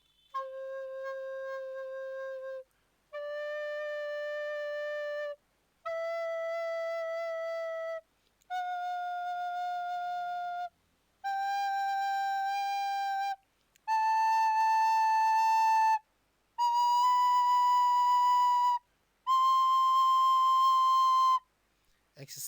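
Recorder playing a school exercise of eight long semibreve notes, each held about two seconds with short gaps between, stepping upward in pitch; clear, steady tones with no talking.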